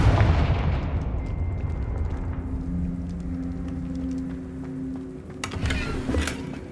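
A Confringo blast spell from a Harry Potter video game bursts with a loud booming explosion that decays into a long rumbling tail, followed by a tonal hum and a few crackling pops near the end.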